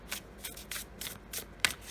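Tarot cards shuffled by hand in a quiet room, with a run of soft riffling bursts roughly every quarter second and a sharper snap near the end.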